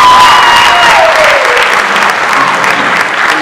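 A room at a school committee meeting fills with loud, continuous clapping that holds steady and eases off slightly toward the end.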